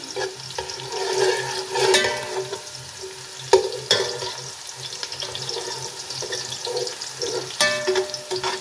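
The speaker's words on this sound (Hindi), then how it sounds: "ये प्याज लाइट ब्राउन हो रहा है।" Onions fry in a pan for matar pulao, their steady sizzle broken by irregular scraping clinks of a spoon stirring and tapping the pan, close and moderately loud with no talking.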